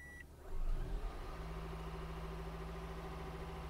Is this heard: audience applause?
no